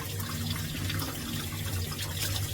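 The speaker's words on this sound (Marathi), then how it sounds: "वॉश करून घेऊया, जेणेकरून त्याची माती सगळी काढून टाकायची." Suran, elephant foot yam, is rinsed under running water in a kitchen sink to wash off soil, a steady close splashing and trickling with no speech over it.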